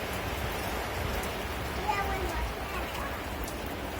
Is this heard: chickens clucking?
no